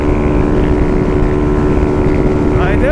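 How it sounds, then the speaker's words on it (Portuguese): A motorcycle engine tuned to rev to 10,200 rpm is held near its limiter on a track, giving a loud, steady, close buzzing drone. "meter o pré-corte da moto"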